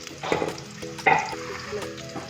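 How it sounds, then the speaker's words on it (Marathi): Finely chopped onion tipped into hot oil for a chicken curry tempering crackles in short bursts of sizzle and stirring, close and moderately loud. "आता तेल गरम झालेले आहे त्याच्यात आपण कांदा टाकणार आहोत बारीक चिरलेला कांदा फोडणीसाठी"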